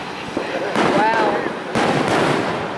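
Fourth of July fireworks crackling and booming in bursts, two broad loud blasts with crackle between, voices faintly audible.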